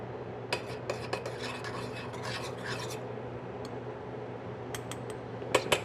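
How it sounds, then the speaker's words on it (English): Shallots sweat gently in a pan on controlled heat for a warm sauce vierge to go with sea bass, with a spoon stirring, scraping and lightly clinking against the pan over a soft, steady background hiss. "We're just going to sweat these shallots gently"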